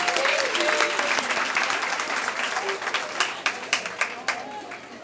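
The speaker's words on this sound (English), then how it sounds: "Ladies, let's clap it up for Dana Chanel." Audience applause for a speaker at a young women's symposium, a dense wash of clapping that thins toward the end into a few louder scattered claps, with faint voices mixed in.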